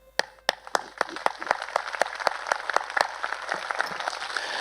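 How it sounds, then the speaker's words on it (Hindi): Church congregation clapping for Jesus, a series of sharp, evenly spaced claps that start sparse and thicken into a denser, slightly softer patter of many hands. "कहते हैं यीशु के लिए ताली बजाओ"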